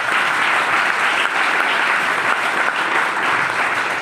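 Audience clapping for a trainer at a training session in Digha, Kolkata: dense, steady applause from many hands, loud and sustained throughout with no break or speech.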